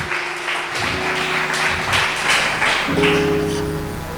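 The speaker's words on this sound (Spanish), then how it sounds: "¿Cuántos le dan un aplauso a Jesús por esas familias?" Church congregation clapping during a Spanish-language service, fairly loud and continuous for about four seconds, with a sustained instrumental tone underneath.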